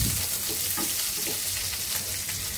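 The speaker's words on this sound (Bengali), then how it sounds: "আর এখানে ডাল তেলে দিয়ে দিচ্ছি" Lentils (dal) frying in hot oil in a home kitchen, a loud continuous sizzle and crackle close up, with faint stirring scrapes and no talk.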